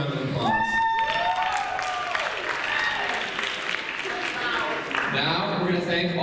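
Crowd applause following a performance at a stage show, a dense, steady clatter of many hands with scattered cheers and whoops, loud and sustained under occasional voices.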